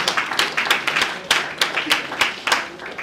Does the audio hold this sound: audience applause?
yes